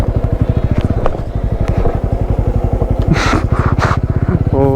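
A street motorcycle rides off-road over a stony track on a ghat route, its engine pulsing steadily and close throughout, with clatter of loose stones and brief bursts of rough noise partway through.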